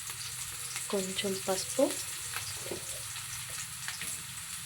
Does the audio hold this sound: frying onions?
yes